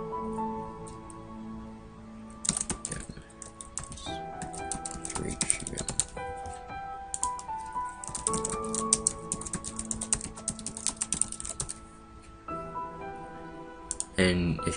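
Commit message being typed on a computer keyboard, with bursts of quick, close key clicks over steady background music and some talk.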